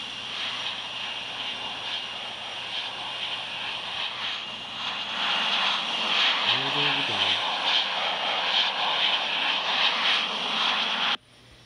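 Airplane engine drone in the Infinite Flight simulator game, a steady hum running throughout that swells slightly midway, with a brief voice-like sound partway through before the sound cuts off sharply near the end.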